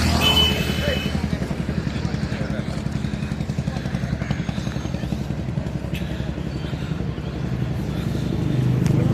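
A motorcycle drones along a highway toward Krishnanagar in dense fog, its engine a steady, loud, close rumble throughout, while a rider talks over it.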